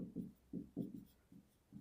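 Pen or marker strokes writing out a math solution for a Class 6 NCERT number problem, a series of soft scratchy bursts in uneven rhythm with short pauses, close and fairly quiet, with no talking.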